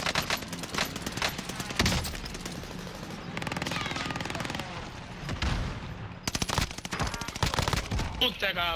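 Bursts of automatic gunfire in the shooter Warzone, set on Caldera, rapid cracking volleys that stop and start through the clip, with occasional voices under the shooting.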